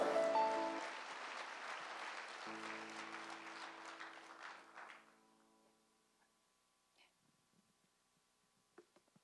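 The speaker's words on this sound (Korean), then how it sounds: "큰 박수로 환영해 주시기 바랍니다" An audience at a church prayer gathering applauds to welcome a professor to the stage, a dense wash of clapping that holds for about five seconds and then fades into a quiet hall with faint taps.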